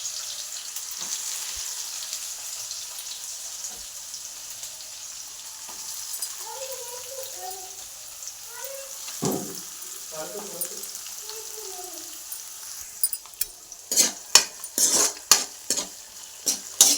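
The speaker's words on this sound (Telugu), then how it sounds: "తాలింపులు వేసుకుందాం." Tempering spices spit and crackle in hot oil in a pan for an okra curry, a steady sizzle that swells into several loud bursts of popping near the end, with faint clinks of utensils.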